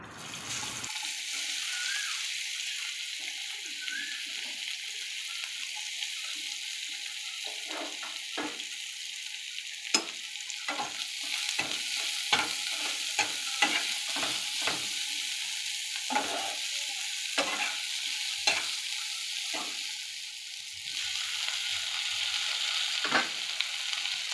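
Onions, tomatoes and green chillies sizzle in hot oil in a wok with a pinch of nigella seeds, a steady close frying hiss broken by repeated sharp scrapes and clacks of stirring.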